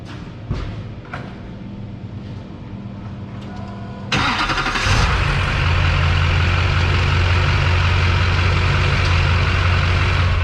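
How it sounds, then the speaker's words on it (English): A Duramax diesel pickup with an aftermarket tuner and turbo, in for a bent tie rod repair, jumps from a low idle to a loud, steady engine roar with a whistling turbo whine that holds to the end. "listen to that Duramax Tuner turbo"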